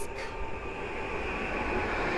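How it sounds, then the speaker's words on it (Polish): A PKP Intercity Chemik train bound for Płock approaching at Sosnowiec Główny station, a steady low rumble with a faint high hum, fairly quiet and distant, no voices. "Zbliża się kolejny pociąg. To skład spółki PKP Intercity Chemik, kierunek Płock."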